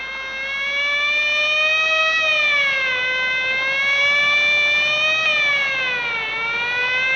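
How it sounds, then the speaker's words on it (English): A loud 1960s British police car siren wails continuously, its pitch sliding slowly up and down in long sweeps, close by with no talking. "Quite unnecessary use of that siren"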